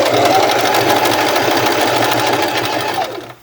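A sewing machine runs a steady, continuous back stitch along a fabric tote bag, loud and close with an even mechanical whir that slows and fades out at the end.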